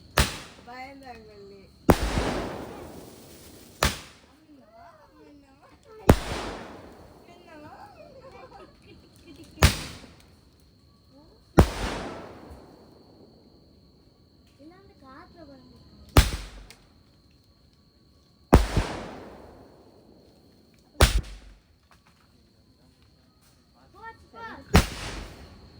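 A 30-shot Diwali firework bursts in a series of loud, booming blasts, each crackling and echoing away before the next, with faint voices between.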